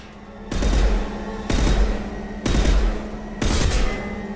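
Pistol shots in the Mass Effect 2 Legendary Edition video game, four loud evenly spaced booming shots about a second apart, each with a ringing tail, close and alone.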